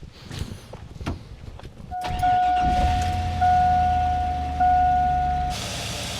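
A Chevy Avalanche with a 5.3 LM7 V8 cranks over and catches after some shuffling and clicks, then settles into a steady, fairly loud idle with a faint whine over the low rumble.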